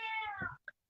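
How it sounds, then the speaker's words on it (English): A pet cat gives one long, loud, close meow with a falling pitch, then after a short gap a brief, quieter chirp-like mew. "That's my cat."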